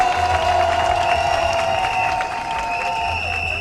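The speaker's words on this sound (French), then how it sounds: "il faut l'applaudir très fort." A crowd applauds at a political gathering in Côte d'Ivoire, a steady, dense wash of clapping and crowd noise that stays loud throughout and eases slightly near the end.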